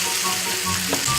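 Salted morel mushrooms sauté in a pan with a brief, loud, even hissing sizzle close by.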